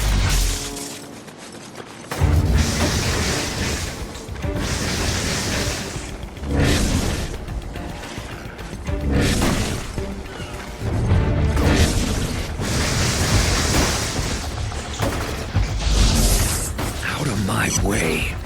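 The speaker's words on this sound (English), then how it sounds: "Damn gas grenades" Gas grenades go off in the inFamous video game, a few loud booming bursts mixed into dense, continuous game effects and music, with a character voice speaking at times.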